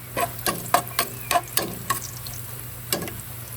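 Chopped onion and ginger fry in a pan for a chayote sauté, a steady close sizzle punctuated by about ten rhythmic clacks of a spatula stirring against the pan.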